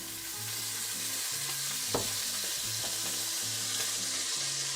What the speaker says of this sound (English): The only thing is we hear the sizzling, but it's not loud.